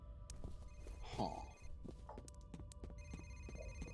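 Within the F.E.A.R. video game, a telephone-like ringing tone repeats as a bright pulsing bell over a dense background of footsteps, clanks and game noise. The ringing persists throughout at a moderate level.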